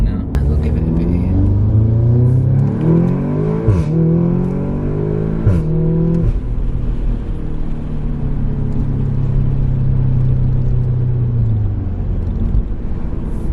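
Audi S3 8V facelift with a Milltek non-resonated catback exhaust, valves open, revving up and down with a deep droning rumble, rising and falling in pitch, then settling to a steady cruise, close and loud.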